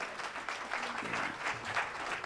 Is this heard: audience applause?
yes